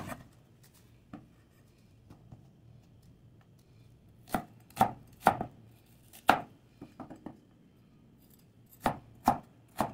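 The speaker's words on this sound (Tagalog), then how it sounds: "Hiwain na natin ang maliliit guys." A knife chopping small cuttlefish pieces on a cutting board, sparse sharp taps that come in small clusters, close and fairly quiet, with near silence between strokes.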